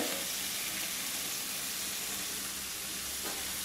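Chopped medium onions sautéing in a pan for mutter paneer, a steady broadband sizzle running throughout with faint stirring, close and continuous with no talk.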